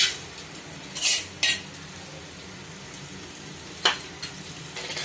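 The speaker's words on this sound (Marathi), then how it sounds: "आता तुपात डिंक तळून घ्यायचंय।" Edible gum fries in ghee in a wok, a steady low sizzle broken by a few sharp clinks and scrapes of a spoon stirring against the pan.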